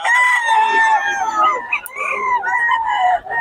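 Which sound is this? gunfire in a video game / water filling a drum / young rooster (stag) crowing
young rooster (stag) crowing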